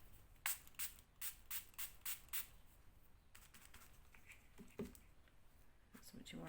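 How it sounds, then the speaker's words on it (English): A small spray bottle of water gives a quick run of about six short, hissing spritzes in a regular rhythm, close and fairly faint, followed by a few scattered softer sprays. "spray bottle of some water"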